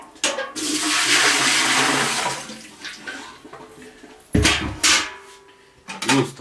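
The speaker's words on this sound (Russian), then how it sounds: "Так как готовить мы будем на пару, поэтому в автоклав наливаем 2 литра воды." Water is poured into a home canning autoclave, a loud steady gushing rush of liquid for about two seconds that fades, followed by a few shorter splashing bursts and clatter nearby.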